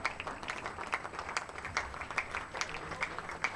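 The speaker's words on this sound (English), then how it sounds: "Let you hear the applause." A cricket crowd at a county championship match between Leicestershire and Lancashire applauds a departing batsman, scattered distant claps rising and falling faintly under a thin background hum.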